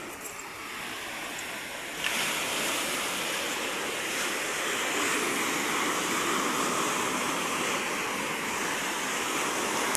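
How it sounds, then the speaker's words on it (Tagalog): Strong ocean waves roar in a steady, broadband wash, swelling louder after a couple of seconds and holding at a full, close surge with no voices. "Medyo malakas yung alon ngayon mga kapyo."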